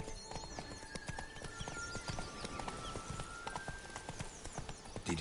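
The horse Roach from The Witcher 3 trots with a brisk, close clip-clop rhythm of hoofbeats. Quiet ambient game sounds sit underneath, and no one speaks.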